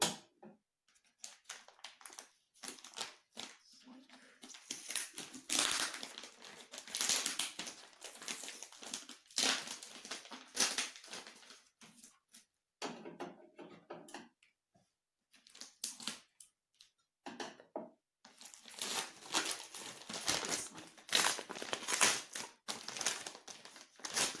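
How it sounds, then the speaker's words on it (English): Paper crinkles and tears in bursts of rustling and crumpling, close up, with brief quiet pauses between handfuls, as a paper parcel of books is unwrapped. "I have my wonderful scissors with me, and right now I'm going to unwrap this one"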